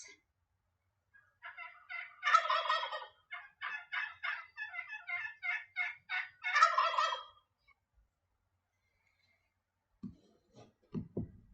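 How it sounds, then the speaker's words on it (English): A wild turkey gobbles in a long run of rapid, loud, rattling notes. Two stronger bursts frame quieter pulses, then the bird falls silent, followed by a few faint, brief sounds near the end. "they strut about and gobble enthusiastically. And that call has a lot of"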